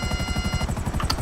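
Rotor thump of a British Army Apache attack helicopter in GTA 5, a steady loud rapid chopping pulse with engine whine, close and continuous with no talk.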